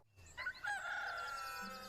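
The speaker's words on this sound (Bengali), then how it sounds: "দেখা যায় মোরগ ডাকতে আছে।" A rooster crows once in a long, drawn-out call that rises and then holds steady. It sounds fairly close and clear, with no talking.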